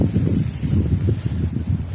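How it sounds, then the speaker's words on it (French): Headwind buffets a handheld microphone on a walk outdoors, a constant loud rumbling roar with gusty surges and no speech. "Là par contre j'ai le vent de face."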